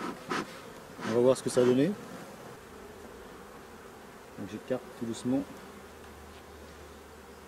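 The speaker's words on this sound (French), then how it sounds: "Il reste des abeilles dedans" Bees buzz steadily in a queenless hive opened for inspection, a low continuous hum with a few louder, closer buzzing passes as frames are eased apart, under a man's quiet speech.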